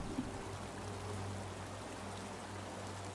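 A splash into water in The Forgotten City, set in a cistern, followed by a soft continuous watery rush and trickle, faint and steady with no voices.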